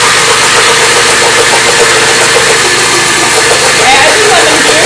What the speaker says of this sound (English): Okay, so turn your blender on low.